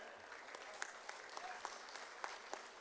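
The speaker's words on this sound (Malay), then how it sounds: "Bagi satu tepukan." Faint, distant applause from a crowd at an UMNO assembly, a soft continuous patter of clapping with a few sharper claps standing out.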